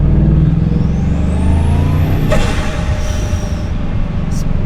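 A Bugatti Chiron Sport with its 1500-horsepower engine accelerates on a Swiss road, heard loud and close as a steady roar with a rising whine that climbs and then drops off.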